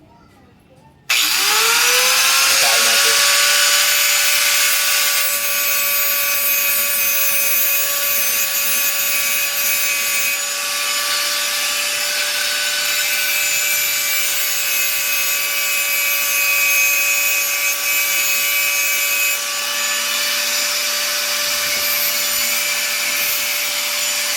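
A power grinder sharpening a dull knife blade, spinning up then running with a loud, steady whine and harsh grinding hiss for over twenty seconds.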